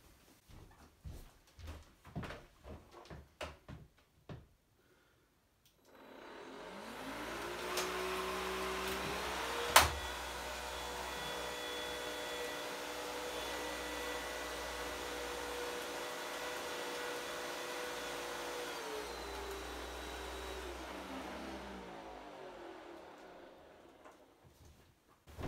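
A Hoover Discovery DS22G cordless vacuum cleaner switches on in turbo mode and runs steadily and loudly for about fifteen seconds before powering down, following a few sharp clicks and knocks.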